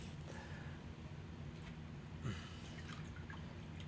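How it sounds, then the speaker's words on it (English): Water is added to pottery slip, making faint drips and a soft trickle with a brief splash midway, heard alone over a low room hum. "Just adding some water to the slip."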